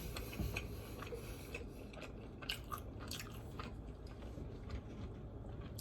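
Fried chicken being bitten and chewed close to the microphone, crisp crunching bites followed by softer, irregular chewing, with no talking.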